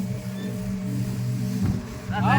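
Speed boat running on a river near Guwahati's Aminagaon, its steady low engine drone and water rush continuous and close, with a burst of splashing toward the end; voices are faintly present.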